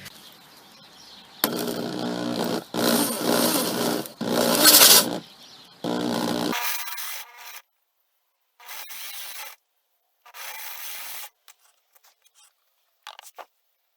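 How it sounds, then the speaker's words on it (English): Loud bursts of a power drill driving a spade bit freehand into wood, several separate runs of grinding whine with short pauses, then quieter intermittent spurts and silence. "I'm freehand drilling these holes with an 1" and an 1/8 spade bit"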